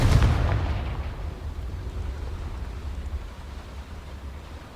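A Confringo fire spell cast in Hogwarts Legacy bursts at the start as a loud, low boom, then leaves a rumbling blast tail that slowly fades over several seconds.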